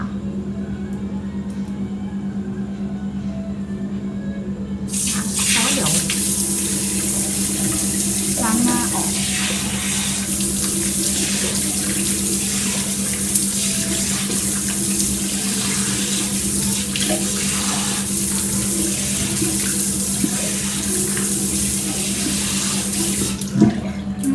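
Tap water pours steadily into a sink for about twenty seconds while someone washes their face, a continuous loud splashing rush that starts abruptly after a quiet opening, with a steady low hum beneath it.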